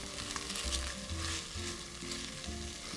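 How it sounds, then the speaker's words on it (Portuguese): Sauce base of sautéed aromatics for a filet mignon and mushroom picadinho sizzles and fries steadily in a pan, close and continuous with faint stirring, no voices. "Você vai notar que seu refogado vai ficar extremamente douradinho."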